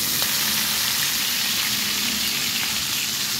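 Tomatoes hitting hot oil in a pan while cooking pakbet give a steady, close, broadband sizzle and crackle with a few sharper pops, continuous throughout with no talking.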